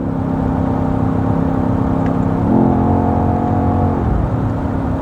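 A BMW XM G09 SUV engine hums steadily, then at the midpoint the pitch steps up sharply as it downshifts, holding a higher droning tone before dropping back near the end; loud, close, no talking.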